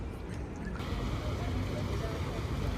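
Steady low engine rumble and water wash of a tour boat underway on a river in Lyon, France, with wind noise and faint voices in the background.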